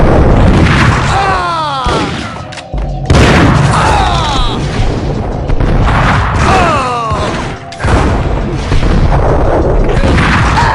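Heavy gunfire from the Max Payne video game, loud repeated booming shots and crashing impacts layered densely with game noise and shouting, nearly continuous throughout.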